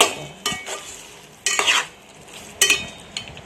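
A spoon stirs chicken frying in oil for dum biryani in three distinct scraping strokes, each a sharp, loud rush of sizzle that fades back to a quiet simmer between them.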